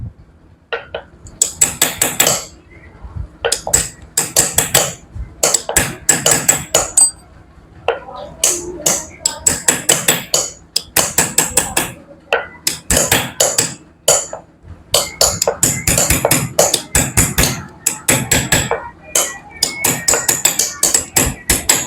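A hammer taps a chisel engraving designs into a brass statue in rapid, sharp metallic strikes, grouped in quick bursts with short pauses, close and loud, with occasional voice underneath.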